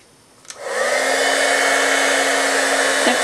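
An embossing heat tool blasts steadily to heat-set black embossing powder on a crafting project, a loud continuous whir with a fixed motor hum starting after a brief click and running unbroken for about three seconds, alone without talk.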